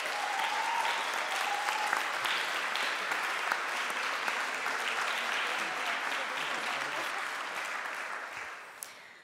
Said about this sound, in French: Une main d'applaudissement,